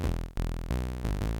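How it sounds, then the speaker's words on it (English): A single warped saw wave oscillator in a VST synth, dry with effects and filter off, plays a buzzy, harmonically rich tone in a few short sustained notes with abrupt pitch changes, loud and alone. "We got two warped saw waves"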